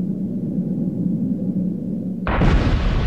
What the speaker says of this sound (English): the standard practice for exposing a new rock face is to blast it